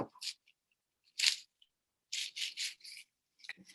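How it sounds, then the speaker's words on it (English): Leaves being stripped by hand from a cut stinging nettle stem, working from the tip down. Several short, crisp rustling and rubbing bursts come close up: one, a louder one, then a quick run of four, with quiet gaps between. "the first thing you do after cutting the stem is to strip it of its leaves from the tip down"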